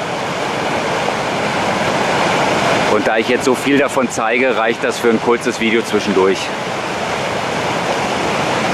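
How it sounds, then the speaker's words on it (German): A waterfall at Obernach spills over many small cascading steps, a loud, steady rushing roar throughout, with someone talking over it in the middle. "es geht halt nur um diese vielen einzelnen Wasserstufen"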